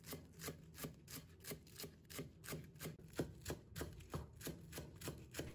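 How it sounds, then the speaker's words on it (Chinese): A knife chops scallion greens on a cutting board in a quick, steady rhythm of light, close taps, about two or three strikes per second. "葱叶切成葱花"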